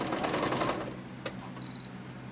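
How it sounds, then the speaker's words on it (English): A sewing machine stitches rapidly, then stops, followed by three short high electronic beeps from the machine warning that it has no thread. "so that's the beeping you hear, is it's telling me there's no thread"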